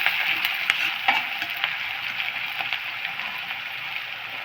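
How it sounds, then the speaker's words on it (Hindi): Onions frying in a pan until golden brown for a soya kofta curry, a dense close sizzle and crackle with occasional stirring scrapes and pops throughout. "एबे देदेबा पियाज, पियाज को आम गोल्डन ब्राउन होगा पर्यंत फ्राए करवा।"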